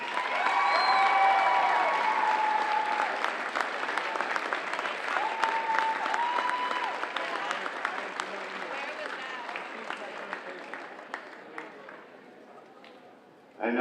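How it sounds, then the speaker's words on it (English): A crowd at the Bishop Guertin vs Hollis-Brookline volleyball state final applauds, a dense, loud burst of clapping that slowly thins and fades over about thirteen seconds. "Let's have a big round of applause for Bishop Guertin."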